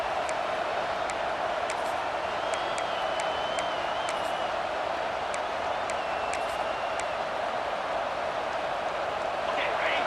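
A packed football stadium crowd roars and cheers continuously during a Georgia game against NC State, a broad sustained din with scattered whistles and shouts and a broadcaster's voice talking over it.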